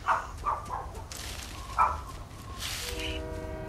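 A train horn blasts from a distance, sustained tones rising out of game background sounds after a few short electronic beeps.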